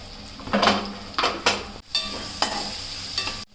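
Bay leaf, cloves and cinnamon frying in oil for egg biryani while being stirred, with rhythmic scraping strokes over a sizzling hiss and a couple of abrupt pauses, close and fairly loud.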